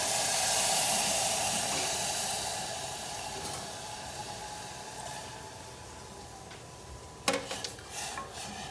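About one and a half cups of broth poured into a cooking pot, heard as a loud hissing, sizzling rush that slowly fades, then light clinks of a utensil against the pot near the end.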